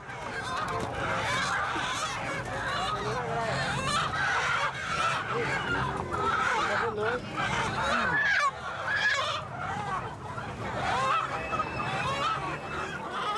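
A dense, noisy crowd of chickens and ducks at a Bangkok market squawking and honking continuously, with overlapping calls and faint human voices mixed into the bustling din.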